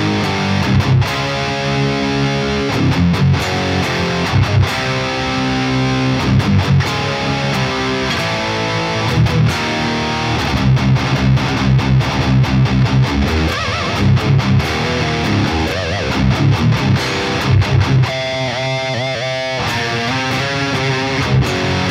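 An electric guitar played through the AmpKnob 5169 amp plugin modeled on the 5150 sounds heavily distorted, with chugging palm-muted riffs and sustained crunchy chords, loud and alone with no talking.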